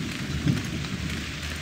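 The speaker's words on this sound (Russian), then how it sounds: "Рассвет уже. Дождь." Rain pours at dawn in the survival game Shadows of Kurgansk, a dense, loud, continuous wash of falling water with a low rumble underneath.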